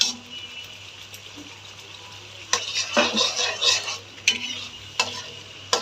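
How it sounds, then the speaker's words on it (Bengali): Ground spinach paste is stirred with spices in a pan: quiet low sizzling broken by several close bursts of spoon scraping and clattering against the metal. "খুব ভালোভাবে নেড়ে চেড়ে একসাথে মশলাগুলো মিশিয়ে দেব।"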